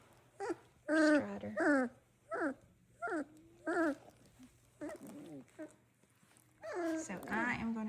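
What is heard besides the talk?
doodle puppies whimpering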